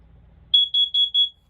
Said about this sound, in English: Carbon monoxide alarm. That's that. It'll go a couple more times here.